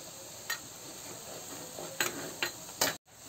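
A spice paste for rajma fries in a pan, with a soft steady sizzle and a few brief sharp stirring scrapes, ending in a sudden cut.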